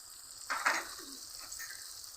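Spiced tomato and fish masala, made with grass carp, sizzles and fries in a pan, a soft steady crackle with a couple of brief louder spurts near the start.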